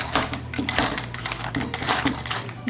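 A Rada hand chopper pounds peaches in quick irregular metallic clicks and clacks, close and crisp, with no voices.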